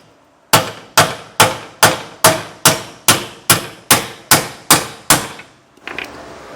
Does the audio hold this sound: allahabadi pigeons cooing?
no